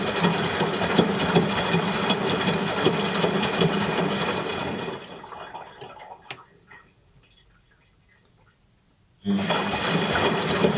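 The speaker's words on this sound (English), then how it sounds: "Here we go, and drain and spin. Start. We're hoping this will pump out." Washing machine on its drain and spin cycle, a steady hissing, rushing hum of water and motor that runs loud for several seconds, drops away to near silence, then abruptly resumes at full level.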